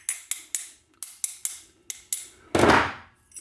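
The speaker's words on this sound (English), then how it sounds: "I can put this synchronizer ring on the gear and actually tap it in place with a hammer" Eight quick, light hammer taps on a manual transmission synchronizer ring being seated onto a gear, in a steady rhythm, each ringing briefly, then a louder scraping clatter at the end.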